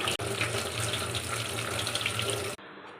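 Sweet corn is rinsed under a running kitchen tap, giving a steady close hiss of flowing water that stops abruptly near the end.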